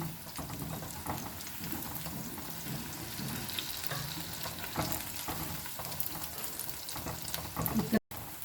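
Avalakki palak aloo pakoda fry in hot oil as they are turned, a dense continuous sizzle with scraping and stirring clatter throughout, ending in a brief louder clink.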